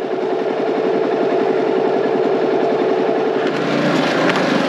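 A Can-Am Outlander XMR 700 ATV engine runs close by in a steady, rough mechanical drone with fast pulsing, shifting to a lower, smoother rumble near the end, no voices.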